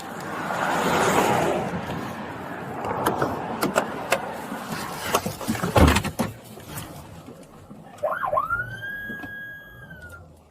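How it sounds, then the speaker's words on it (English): Traffic passing by on the road during a police traffic stop, a rushing vehicle swell building and fading, then scattered clunks and a short rising siren-like whoop near the end. "Clearly, traffic's passing by"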